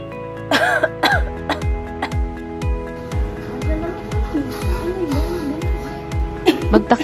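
A person coughs and sneezes in a hospital diagnostic department, short sharp bursts repeating in a rough rhythm over several seconds, close and fairly loud, with a little voiced sound mixed in.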